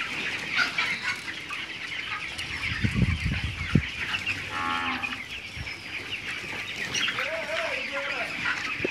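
Poultry farm with 27-day-old broiler chickens on water, clucking and calling over a steady shed hum, with a few louder bumps and knocks midway and a faint voice in the background.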